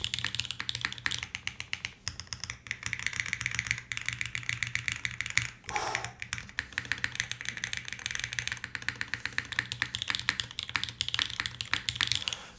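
Rapid, continuous typing on a Singa Kohaku mechanical keyboard with copper inserts, crisp close clacks in a busy rhythm with a brief pause midway and no talking.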